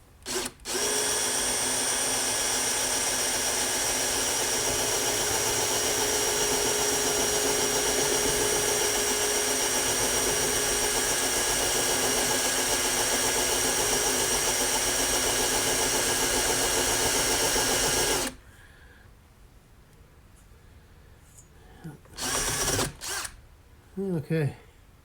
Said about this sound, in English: she's drilling